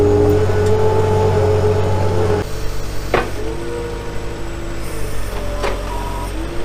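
A skid steer loader's engine running on a farm, a loud steady mid-range drone that drops in pitch partway through, with a couple of sharp metallic knocks over the idling.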